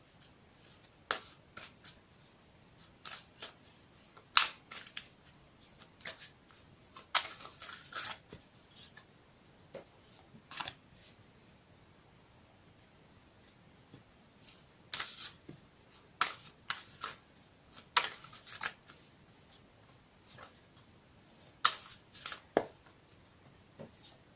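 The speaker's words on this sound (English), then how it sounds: "I will shuffle it again for you on camera." Several bursts of a deck of cards being shuffled, rapid riffling flutters separated by short pauses, close and fairly quiet.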